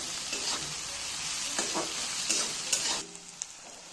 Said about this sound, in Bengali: এটাকে আমরা ফ্রাই করে নেব।